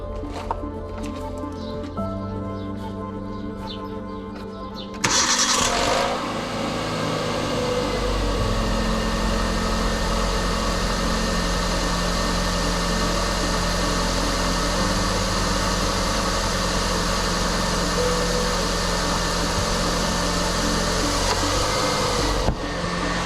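A Kia Rio engine, just refitted with a new timing belt, cranks and catches after a few seconds of quiet, then settles into a steady, loud idle hum that runs on for most of the stretch without talk.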